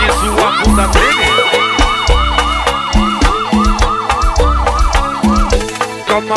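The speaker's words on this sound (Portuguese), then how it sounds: "Calma, bebê, chegou a polícia, presta atenção." A wailing police siren rises and falls in rapid, regular cycles, loud and continuous throughout a Brazilian funk track, layered over steady pounding bass beats.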